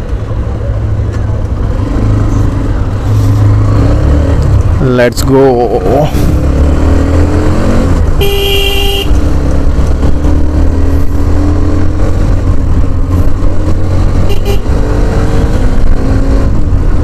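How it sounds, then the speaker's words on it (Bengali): A Hero Xtreme 125R motorcycle starts up and rides along a highway service lane, its engine droning steadily close by with a short surge in revs, while someone talks briefly over the running engine. "চলো বাইক স্টার্ট করা যাক।"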